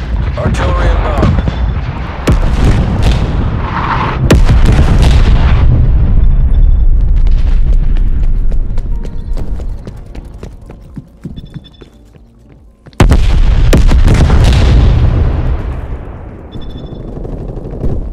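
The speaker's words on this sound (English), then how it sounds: "Hostile artillery targeting active." Artillery strike explosions pound a match in Call of Duty Black Ops Cold War, a series of loud, booming blasts and rumbling gunfire, fading to quieter rumble before a final sharp heavy impact and lingering roar.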